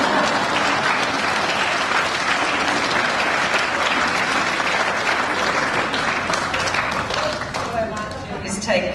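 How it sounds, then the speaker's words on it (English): Sustained applause from an audience at a housing forum after a talk, dense, loud clapping that fills the room and thins slightly toward the end, with some voices mixed in. "You can clap now."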